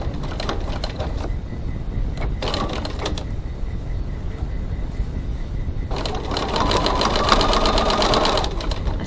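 A sewing machine stitches along a crossbody bag strap about 3 mm from its edge, a steady close mechanical whir that runs in bursts with short pauses and grows louder and busier toward the end.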